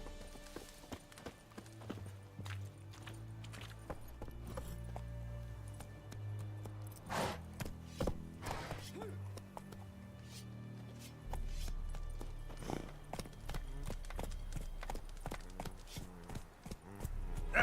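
The horse Roach trots in The Witcher 3 video game, steady clip-clop hoofbeats close and clear over a low music bed, with no talk.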